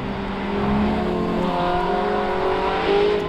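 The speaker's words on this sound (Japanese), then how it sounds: "バルブが開いて、排気音がもう全く変わりますね。" A sports car engine revs steadily with its exhaust valves open, giving a loud, sustained, throaty exhaust note that rises and falls slightly while driving in automatic mode on a winding road.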